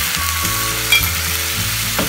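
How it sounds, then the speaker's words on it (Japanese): Chicken wings sizzling hard over high heat as teriyaki sauce is stirred through them, a loud, steady close-up hiss with a low humming undertone and occasional utensil clinks. "先ほどのタレを絡めていきたいと思います"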